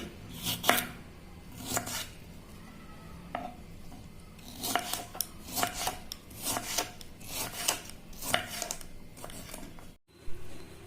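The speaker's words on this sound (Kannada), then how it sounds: "ಹಿಂಗ ಸಣ್ಣ ಎಲ್ಲ ಟೊಮೆಟೊ ಕಟ್ ಮಾಡೋಣ್ರಿ." Knife chopping tomatoes into small pieces on a board, a series of quick irregular cuts in bursts with brief pauses, close and moderately quiet, with no voices.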